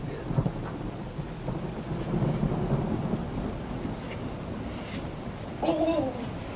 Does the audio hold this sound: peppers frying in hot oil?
no